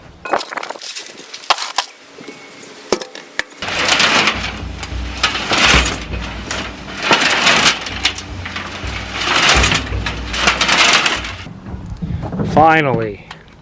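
A homemade compost tumbler loaded with mulch and some manure turns over, giving repeated rumbling, crunching tumbles in waves with wind buffeting the microphone and a brief voice near the end.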